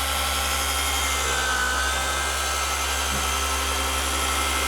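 A Clover 3-inch mini dual action polisher spins freely with a steady, loud, close electric motor whine and hum, holding constant throughout with no voices.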